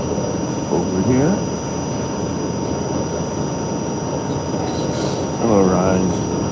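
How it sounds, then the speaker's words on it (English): A train rumbles through a rail yard beside a train garage, producing a steady, moderately loud mechanical rumble, with brief wheel squeals and someone speaking over it at the start and end. "This is the railroad, I should say the train garage and yards over here."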